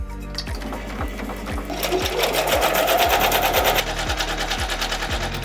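An embroidery machine stitches a quilting motif through layered fabric, its needle hammering in a fast, steady rhythm with regular mechanical thumps, close and loud, without any talking.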